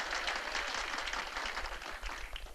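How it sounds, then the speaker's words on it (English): Applause for a performer named Martha at a stage show, a dense, steady wash of many hands clapping that carries on throughout, fairly faint and distant, with no voices over it. "a very big round of applause for Martha"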